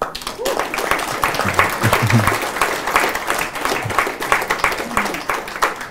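An indoor audience applauds at an informal gathering, steady dense clapping at moderate level with voices murmuring underneath throughout.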